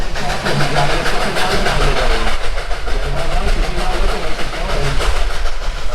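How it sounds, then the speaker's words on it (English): A loud, continuous rumble of the Dollywood Express coal-fired train in Pigeon Forge, Tennessee, heard while riding, with rhythmic clacking and engine noise, close and steady throughout. "I've never ridden a coal train before."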